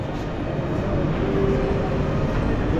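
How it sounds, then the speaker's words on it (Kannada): A Bangalore Metro train rumbles steadily nearby as it arrives, a continuous low roar with faint mechanical whine. "ಮೆಟ್ರೋ ಮೆಟ್ರೋ ಮೆಟ್ರೋ ಬಂದೇ ಬಿಡಿ"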